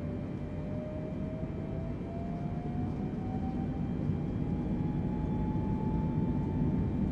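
Boeing 747 engines spooling up to full takeoff thrust in Microsoft Flight Simulator 2020, a steady loud broadband roar with a slowly rising whine building over several seconds, no voices.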